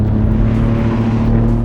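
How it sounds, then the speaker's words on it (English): An Alfa Romeo Giulia GTAm engine downshifts on a mountain road, producing a loud, close, steady engine roar in a brief burst with no talking. "Downshifting, you get a really nice vroom."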